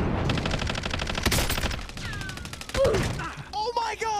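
Rapid gunfire in the Call of Duty Warzone video game, loud and close, as a fast repeating burst that is followed by whistling effects and talk.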